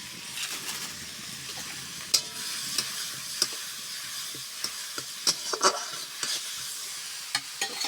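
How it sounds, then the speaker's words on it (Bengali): Spiced masala paste with chillies is sautéed with a splash of water for a winter cauliflower dish, a soft continuous sizzle broken by sharp scraping clicks of a stirring spoon against the pan, with no talking. "দেখুন বন্ধুরা একটু সামান্য জল দিয়ে মশলাটা কষা চলছে"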